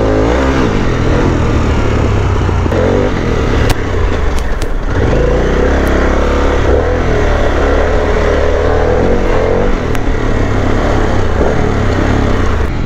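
Harley-Davidson Pan America motorcycle ridden off-road, engine droning loud and steady throughout, close up, with wind rush and brief rumbles as the suspension works over rough ground.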